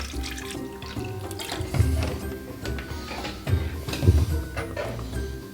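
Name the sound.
pouring water into a personal air cooler tank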